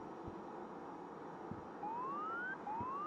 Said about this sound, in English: And we can hear the engine starting up.